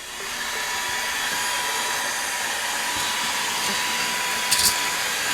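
Orfeld WB08 cordless vacuum cleaner on its second power level, steady broadband airflow whoosh running throughout, with a brief louder rattle near the end as chunks of drywall and tile are sucked up.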